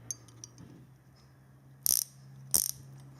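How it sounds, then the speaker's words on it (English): A Matco flex head ratcheting wrench gives two short, sharp bursts of ratchet clicking, close and crisp, against a quiet background. "This is a flex head, ratcheting."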